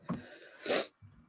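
One short, breathy sneeze bursts out near the mic in a quiet moment, followed by a faint low rustle.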